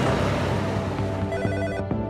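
Telephone ringing with a bright, warbling electronic bell tone, two short ring bursts close and clear, with no voices.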